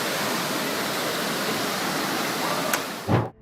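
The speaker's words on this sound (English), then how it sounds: "the relentless onslaught of Storm Brennan unleashed massive waves that engulfed passing cars" Massive storm waves crash over a coastal road in a Scottish village during Storm Brennan, a loud continuous roar of surging water that ends in a brief heavier surge before cutting off.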